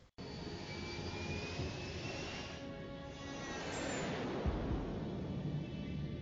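The Japan Airlines Flight 123 airliner flies over the Kanto mountain range with a continuous jet engine roar that swells slightly, heard alone without voices.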